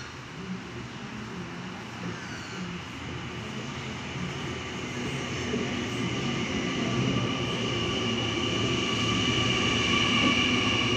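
A six-car NIF D set passenger train pulls into a station platform, a steady electric hum and rumble growing gradually louder as it approaches, with no talk.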